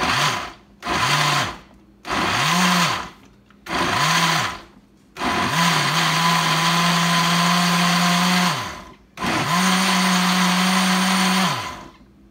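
Blender pulsing tomatoes for homemade salsa: four short whirring bursts separated by brief pauses, then two longer sustained runs, loud and close with no speech.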